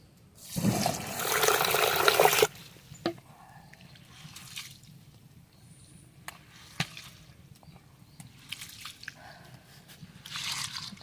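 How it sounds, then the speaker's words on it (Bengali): Rice being rinsed by hand in a pot of warm water for village-style chicken biryani, a loud swishing, pouring burst up front, then quieter drips, sloshes and small clinks close by. "এবার এই চালটা ধুয়ে দিচ্ছি।"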